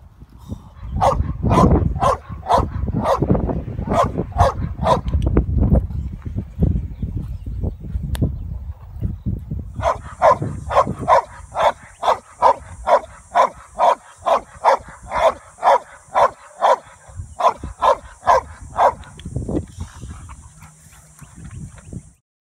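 A dog barks repeatedly and loudly at close range during protection sleeve training, first in rapid bursts and then in a steady rhythmic series of sharp barks, with no talk over it.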